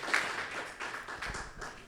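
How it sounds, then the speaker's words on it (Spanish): A church congregation applauds together, a dense wash of clapping hands that stays steady and fairly close for a brief stretch with no voices over it. "denle un aplauso al Señor"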